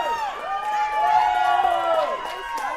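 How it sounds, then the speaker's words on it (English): Spectators at a peewee hockey game cheering, a crowd rising in noise beneath an excited commentator's voice, which dominates with harmonic speech throughout. "The crowd is now getting in behind these players. Everybody's on their feet."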